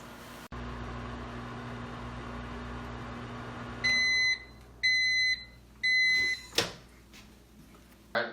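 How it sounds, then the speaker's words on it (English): A microwave oven hums steadily while heating, then stops and gives three loud, evenly spaced beeps, followed by a door clunking open. "We're going to put it in the microwave for 2 minutes"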